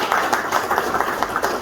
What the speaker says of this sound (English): Please, another round of applause for the Vice-Chancellor.